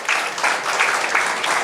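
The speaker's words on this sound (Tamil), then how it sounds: "நம் அனைவரின் சார்பிலும் ஒரு பலத்த கரகோஷத்தை எழுப்பி இது வாழ்த்து" Audience applause at a Tamil public event honouring an engineer and sculptor, a dense steady burst of many hands clapping at close range, sustained across the short span without pause.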